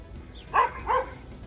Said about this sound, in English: barking at a deer